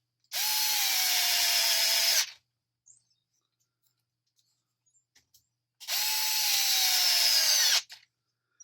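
A power driver zips out the two rear chassis screws on an Arrma Kraton EXB RC car in two loud, close bursts of about two seconds each, with a quiet pause between them.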